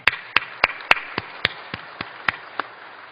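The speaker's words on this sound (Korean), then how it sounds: "우리 한번 박수하겠습니다." A small congregation at a church worship service claps in separate, sharp, fairly evenly spaced claps, about ten over a few seconds, with no voices over them.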